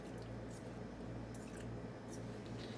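Milk is stirred into chocolate mug cake batter in a cup, with soft wet squishing and mixing sounds repeating under a steady low background hum.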